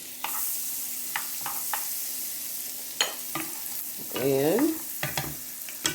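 Kerrygold butter sizzles steadily in a skillet before shrimp go in for sautéing, with sharp clinks of a utensil against the pan and a brief scraping swirl near the end; a single short word is spoken.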